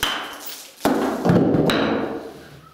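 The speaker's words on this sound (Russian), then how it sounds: "молотком бью" Loud metal hammer blows strike a stove during cleaning, one sharp impact followed by a heavier, ringing strike, with a dull resonant decay in between.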